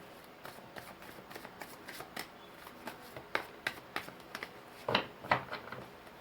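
Tarot and oracle cards drawn and shuffled from a deck, a steady series of soft, quick paper slaps and flicks, close and fairly quiet, with a few sharper snaps near the end and no talk.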